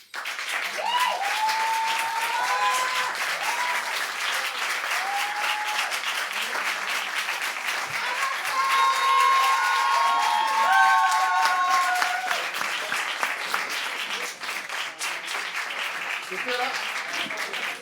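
An audience at a slam poetry tournament applauds a poet with dense, continuous clapping and some cheering. Voices call out over the applause throughout.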